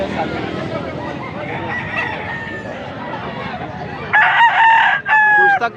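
A full stag rooster crows loudly and close near the end, after a stretch of background clucking and general farmyard chatter, with people talking faintly throughout.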